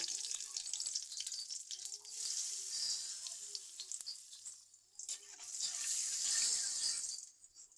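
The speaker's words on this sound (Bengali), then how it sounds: "আমি কিছু আলু টুকরা করে নিয়েছি, সেগুলো ভেজে নেব" Potato pieces fry in white oil seasoned with turmeric and salt, giving a steady close sizzle that swells and fades in waves, with no voices over it.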